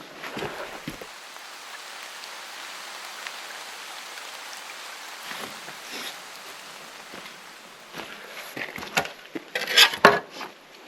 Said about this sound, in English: It has since started raining again.